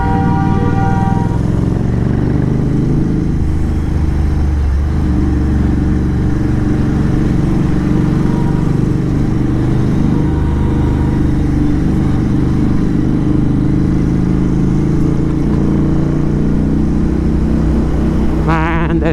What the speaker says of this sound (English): Man, there's too much traffic.